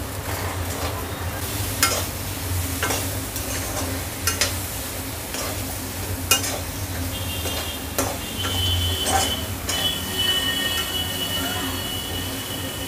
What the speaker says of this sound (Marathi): मशरूम पण आपण चांगली शिजवून घेऊया